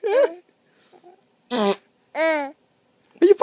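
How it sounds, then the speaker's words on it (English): Short fart sounds pop out in separate bursts with silent gaps between them, loud and close, mixed with babbling and laughter-like vocal noises. "But you fart so much, huh?"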